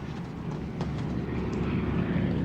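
C-47 transport planes of the Band of Brothers episode "Bastogne" drone overhead as a steady, loud low engine rumble that swells slightly and holds for the whole stretch.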